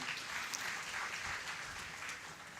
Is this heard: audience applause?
yes